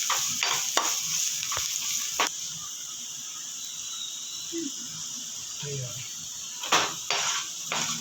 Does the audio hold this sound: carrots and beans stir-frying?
yes